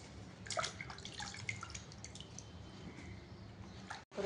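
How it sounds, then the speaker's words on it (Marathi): Pumpkin leaves from a balcony garden being washed in water: soft splashing, dripping and squishing close by, with brief clustered bursts early on, then quieter sloshing. "ते चांगले पानं धुवून घ्यायचे स्वच्छ एकदम."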